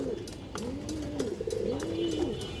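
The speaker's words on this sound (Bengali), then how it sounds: "খুব সুন্দর কবুতর" Pigeons from a mixed-breed collection coo close by in repeated low, rolling phrases, about three swelling calls over a steady background with no talking.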